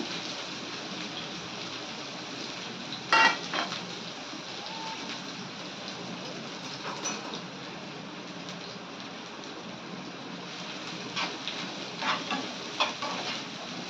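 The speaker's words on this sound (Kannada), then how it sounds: "ಇವು ಚಂದ ಉಳ್ಳಾಗಡ್ಡಿ ಮೆಣಸಿನ್ಕಾಯಿ ಎಲ್ಲ ಚಂದ ಫ್ರೈ ಆಗಬೇಕು ಫ್ರೆಂಡ್ಸ್" Onions, green chillies and curry leaves frying in a pan, a steady crackling sizzle at moderate level with a few brief clinks and stirring scrapes, no talk.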